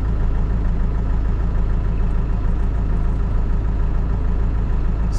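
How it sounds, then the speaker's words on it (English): Kubota HST tractor engine idling steadily, a loud, even low rumble that continues unchanged throughout, with no voices. "Now you can start the engine again"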